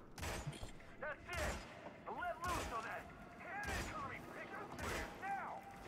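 Gunfire with recoil in the video game Hitman, a series of sharp shots spaced about a second apart, with people talking over the shooting.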